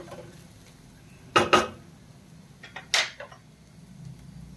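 Leftover rice is stirred in a pan, with a few sharp metallic scrapes and clinks of a spoon against the pan in two short bursts, close by over a quiet background.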